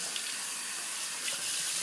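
Water runs steadily from a faucet into a sink while soap is rinsed off a face, a close, continuous hiss with faint splashes and no speech.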